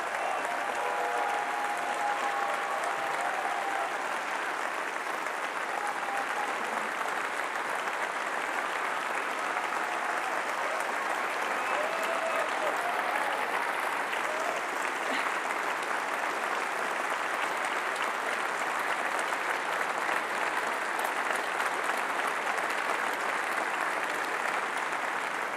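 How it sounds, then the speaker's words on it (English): Sustained, dense applause from a large Liberal Democrat party conference audience greeting Jo Swinson, a steady roar of clapping lasting the whole stretch with crowd noise and no speech over it. "round of applause, as you would expect for her."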